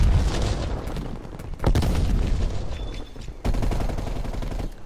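In Call of Duty Black Ops Cold War, loud bursts of gunfire crackle alongside two heavy booming grenade blasts, one near the middle and another toward the end, with sustained rumbling in between.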